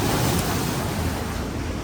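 Sea water churns and washes around rocks along the shore, a continuous close broadband rush of surf with wind buffeting the microphone, steady and fairly loud throughout.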